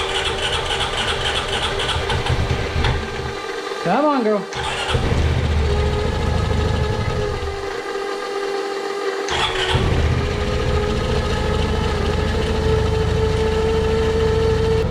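A Honda Pioneer 500 turbo side-by-side engine cranks, catches and runs roughly with wavering revs, then stumbles and dies before trying again, with a person speaking softly nearby.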